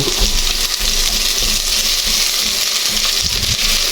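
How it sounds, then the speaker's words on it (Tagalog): Onions sauté in a hot pan for chicken sotanghon, giving a loud, steady, close sizzle with crackling spatter that continues without pause. "Tamang gisa lang uli"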